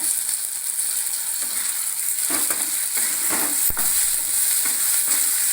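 Chopped tomatoes and salt frying in a pan while being stirred, a steady loud sizzle with scraping stir strokes and one sharp clink near the middle, no talking.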